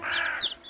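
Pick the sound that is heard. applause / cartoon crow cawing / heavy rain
cartoon crow cawing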